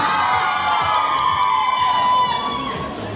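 Loud crowd cheering and applause at a corporate New Year party, whoops and shouts over continuous clapping, dense and close throughout.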